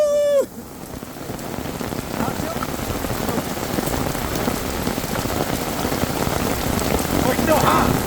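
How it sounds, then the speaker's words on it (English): Rain falls steadily at an outdoor barbecue, an even close hiss of drops on surfaces throughout, after a brief vocal whoop at the very start. "we love rain."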